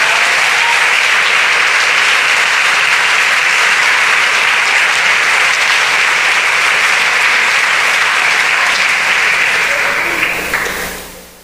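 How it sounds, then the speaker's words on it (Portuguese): Sustained applause from a church congregation during a preaching service, dense and steady for about ten seconds before tapering off at the end. "Dê um aplauso a ele, por favor."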